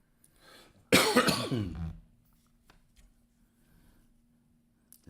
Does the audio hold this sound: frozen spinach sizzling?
no